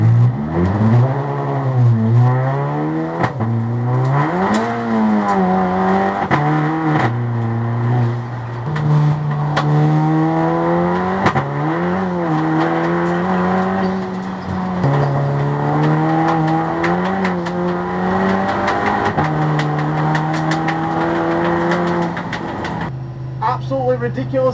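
An Audi TT TFSI CHHC race car testing at Blyton Park, its engine loud and close, revving hard and climbing repeatedly through the gears, easing briefly between shifts over a sustained run.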